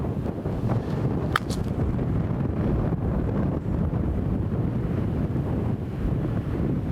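Wind buffeting a microphone on an open golf course, a loud continuous low roar with steady gusty rumble throughout and a faint brief click near the start.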